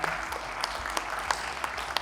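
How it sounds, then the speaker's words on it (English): Brief, fairly soft applause from an audience at a corporate technology presentation, a steady patter of clapping with a few sharper claps standing out, lasting about two seconds. "could you give me some applause?"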